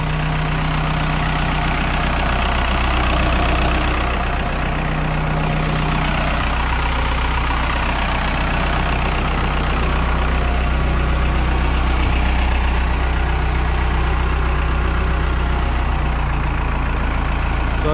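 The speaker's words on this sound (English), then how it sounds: "I'm gonna run it back and forth a little bit through the gears, and then we'll recheck it once it warms up" A Case backhoe with transmission problems idles steadily, its low, heavy diesel drone close and constant while being run through the gears, with a slight rise in engine load partway.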